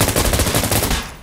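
Rapid automatic gunfire from the video game Insurgency Sandstorm, a loud close burst of closely spaced shots that cuts off near the end.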